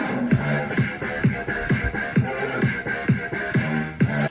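A fast, punchy electronic dance track plays with a driving kick pattern and dense, gritty bass synths, moderately loud with no voices over it.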